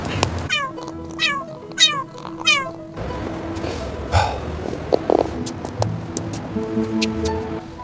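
A homeless mother cat or her kittens meowing, several short close calls at the start, then rustling, ambient noise and more faint mews with a voice.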